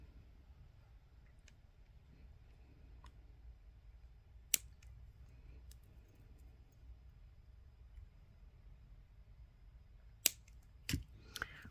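Jewelry wire ends snipped off with cutters while making a SoftFlex bead necklace, several sharp isolated clicks against quiet room background, one early and a cluster of closer snaps near the end.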